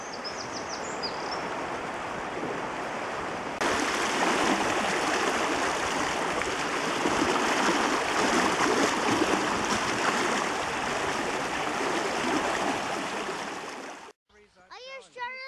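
Water pours loudly and steadily out of a canal lock as a close, continuous rushing roar, then cuts off abruptly near the end, leaving faint chirping sounds.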